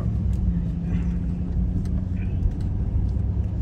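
A truck passes on a street at night in Immokalee, Florida, its low engine rumble steady and fairly close throughout, with light traffic noise and no clear talk.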